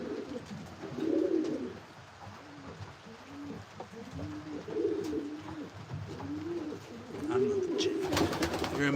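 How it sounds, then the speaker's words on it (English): Racing pigeons coo repeatedly inside a loft, soft rolling calls overlapping in a steady rhythm, close and moderately loud, with faint shuffling and a bit of background noise near the end. "Mike Tyson, he really likes the pigeons"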